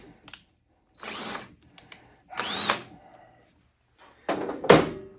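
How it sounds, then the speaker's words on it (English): Loosening a nut on a small CT70 motorcycle engine with a hand tool, heard as several short, close bursts of rasping, clicking tool noise separated by brief pauses, with no talking. "I'm loosening the nut again."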